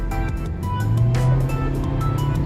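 A Toyota Aqua hybrid engine with eco mode switched off, accelerating steadily from around 40 with a rising engine drone, heard from inside the car.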